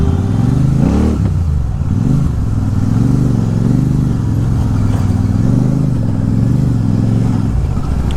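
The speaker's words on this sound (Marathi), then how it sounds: "आता भाजीपाल्याचा टेम्पो चाललाय वर" A tempo truck loaded with vegetables labours uphill on a foggy road, its engine droning steadily and close with small rises and dips in pitch, no talking over it.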